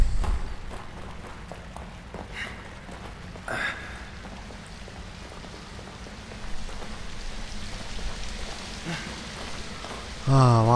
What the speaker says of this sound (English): Oh, waterfalls. So peaceful.